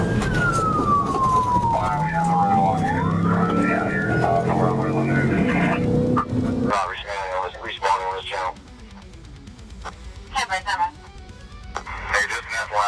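A police siren wails loudly in sweeping tones while officers chase a fleeing blue Kia at high speed on US 90. Voices talk over it, then the siren gives way to clipped radio chatter and short bursts of speech.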